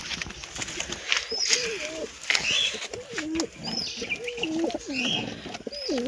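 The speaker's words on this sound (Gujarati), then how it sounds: "તો આ નવું કબૂતર જ છે મિત્રો" A newly arrived pigeon coos in repeated low, rolling phrases a few times over, close by, with other birds chirping and cooing faintly in the background.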